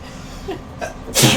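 A single sharp sneeze bursts out near the end, preceded by a couple of short breathy intakes, close and loud in a quiet indoor room.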